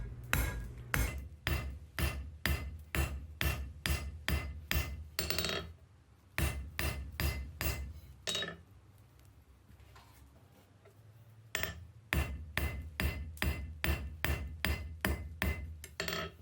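A hammer forges a steel fire striker over the horn of an anvil in close, rapid ringing blows, paused for a stretch of quiet before the rhythmic strikes resume.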